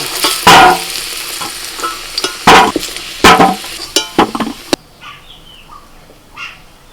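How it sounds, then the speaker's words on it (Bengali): Fried potatoes lifted from a pan in a home kitchen while cooking chicken: a few sharp scraping and clinking strokes of a spatula with a sizzle behind them, clustered near the start, then quieter pan noise. "আলুগুলো ভাজা হয়ে গেছে আমি তুলে নিচ্ছি"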